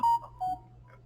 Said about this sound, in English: Sorry, that's just my phone going off.